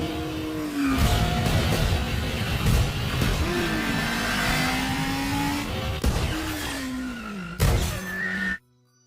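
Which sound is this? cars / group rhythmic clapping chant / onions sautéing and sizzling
cars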